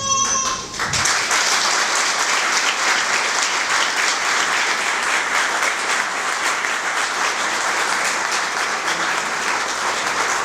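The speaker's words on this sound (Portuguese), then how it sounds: "eu queria pedir uma salva de palmas em memória ao Carlinhos Mosman" At a lecture held by a bank workers' union, an audience gives a sustained, loud round of applause in memory of Carlinhos Mosman. The clapping is steady and dense after a brief opening tone and lasts about ten seconds.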